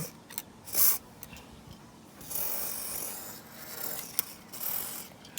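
Aerosol grease sprayed onto metal moving parts and screws, heard as short hissing bursts and a longer sustained hiss over faint rubbing and handling noises, close up.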